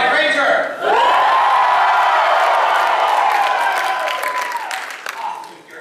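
A convention crowd cheers and whoops loudly for the White Ranger in a show-of-noise vote, a sustained roar with shrill screams and clapping that swells, holds for several seconds, then gradually fades out.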